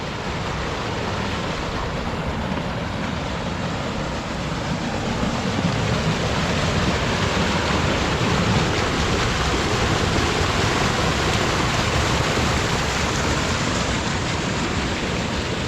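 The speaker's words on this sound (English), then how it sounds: "walk right out on the falls here." Wild Creek Falls at Beltzville State Park pours in a loud, steady roar of rushing water, broadband and unbroken, heard up close with no voices.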